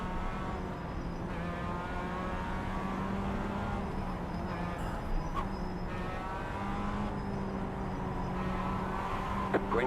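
Mazda MX-5 race cars on the Nürburgring Nordschleife in iRacing, a pack of engines droning and buzzing steadily at moderate distance, with faint passing whines and no talk.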